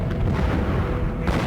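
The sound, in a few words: fireworks exploding in Lima, Peru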